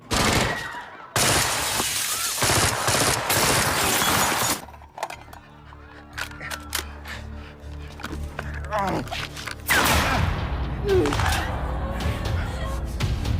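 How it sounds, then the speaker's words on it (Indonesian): A film shootout between a fugitive and police brings dense, rapid gunfire mixed with shattering glass, loud bursts at the start and again later, with a quieter stretch of scattered shots and shouted voices between. "Di sini terjadi saling tembak-menembak antara Borne dan polisi"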